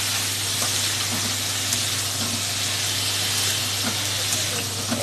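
Vegetables for pav bhaji hit a hot buttered pan, giving a loud, steady sizzle and frying hiss that holds evenly throughout.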